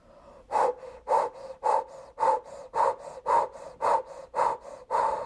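Rapid, forceful mouth breathing in a steady rhythm, about ten sharp huffing breaths in quick succession, close and clear.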